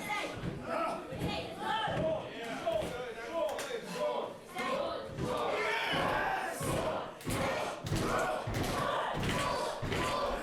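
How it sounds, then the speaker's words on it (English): Crowd at a New Japan Pro-Wrestling event in Western Springs, Auckland, cheering and chanting loudly and continuously, with thuds from the ring and a commentator talking over it. "The crowd here in Western Springs trying to get Sean back into this matchup."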